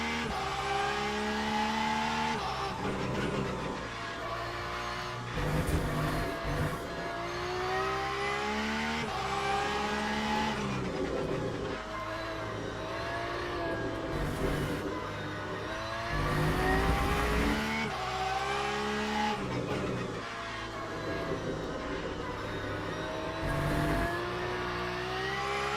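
Porsche race car engine in the Le Mans Ultimate sim racing game, revving continuously with shifting gears and pitch sweeps, loud and close throughout.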